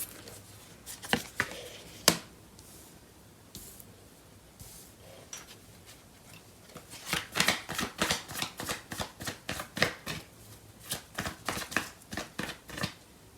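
Tarot cards are shuffled by hand. Scattered soft flicks give way to a rapid run of crisp, close riffling bursts in the second half.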